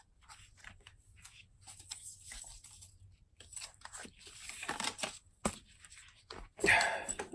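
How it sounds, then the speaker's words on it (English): Deck of tarot cards dropped by hand, soft scattered papery shuffles and slaps building to a louder flurry near the end, close and fairly quiet. "I dropped the deck just now, so that sound is not me hand selecting a card for you."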